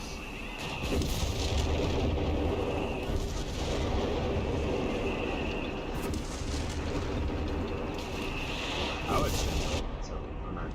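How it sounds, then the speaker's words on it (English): Artillery fire in the video game Company of Heroes 3: repeated heavy booms and blasts layered in dense continuous battle noise, with a commentator talking over it. "That's the artillery duel incoming."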